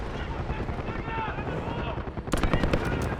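Loud bursts of automatic gunfire under a rumbling helicopter roar in Call of Duty: Black Ops 6, with sharp cracks cutting through the noise near the end.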